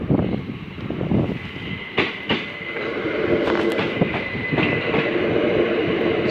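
A Class 375 electric passenger train rolls past a level crossing in Kent, with rhythmic wheel clicks and rail noise building to a steady roar, plus a few sharp clacks over the joints, fairly close and with no voices.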